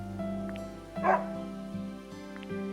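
A dog in Another Code: Recollection gives short yips and bow-wow barks over looping game music, one louder bark standing out midway.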